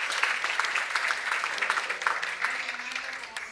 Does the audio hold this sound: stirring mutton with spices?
no